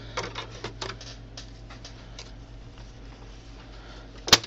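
A sewing machine runs a straight stitch around fabric for a reusable snack bag, giving a steady low motor hum with soft rapid ticking and one sharper clack at the end, fairly quiet and without talk.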